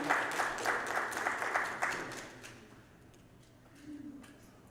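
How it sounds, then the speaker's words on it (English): An audience at a church ministry conference claps loudly, the applause fading out after about two seconds into quiet room tone with a faint voice. "Let's give him a round of applause."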